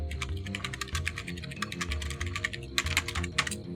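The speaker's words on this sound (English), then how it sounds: "I'm hearing typing magic." Fingers type quickly on a computer keyboard during a game-programming session, producing a dense, irregular run of close clicking keystrokes over a low background hum, with no talking.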